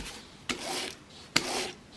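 A single-bevel Samurai broadhead is buffed on a cereal box cardboard strop in two slow, even strokes, each a soft close rasping swipe with brief quiet between.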